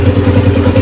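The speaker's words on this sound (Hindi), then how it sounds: "अब इंजन का साउंड सुनेंगे" A 1982 Honda CG 125 motorcycle idles on its stand, its single-cylinder engine thumping in a steady, loud, close rhythm with a light mechanical clatter and no voices.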